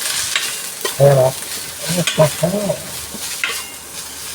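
Ingredients for pancit canton noodles stir-fried in a pan, steady sizzling with several louder scraping stirs of a utensil, close and clear, with a brief spoken word over it.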